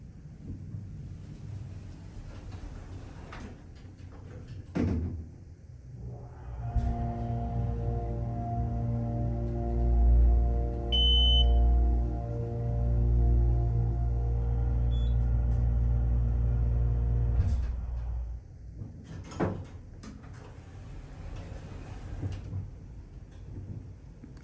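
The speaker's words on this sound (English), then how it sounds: "I want to hear that motor one more time without the jolt." A low ThyssenDover Impulse hydraulic elevator motor hums steadily for about twelve seconds, starting and stopping with soft clunks, with a brief electronic beep in the middle.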